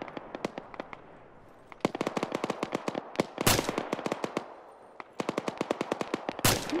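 Video game gunfire in Arma: rapid automatic bursts and sharp single shots crack repeatedly in rhythmic volleys, with a couple of louder, heavier blasts mixed in.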